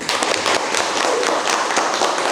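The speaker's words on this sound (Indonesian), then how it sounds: "Pertanyaan yang bagus, kasih tepuk tangan." Classroom applause from students, a brisk, dense burst of many hands clapping at once, loud and steady for a couple of seconds with no talking.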